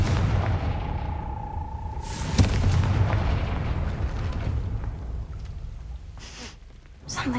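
A Confringo spell explosion in Hogwarts Legacy lands as a sudden sharp blast followed by a rumbling roll of debris and crackle, loud over steady game ambience, with a voice calling out just before.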